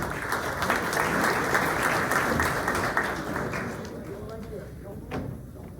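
Applause from a morning candidates' forum audience greets a local event rental company, with sustained clapping that fades over the final seconds while a few thuds and scattered claps linger.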